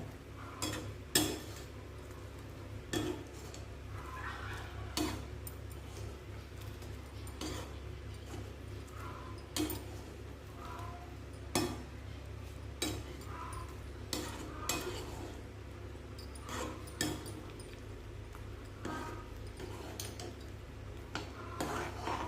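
A spoon stirs bun halwa in a cooking pan, producing soft, regular scraping knocks against the metal every second or two, faint and unhurried, with no talk.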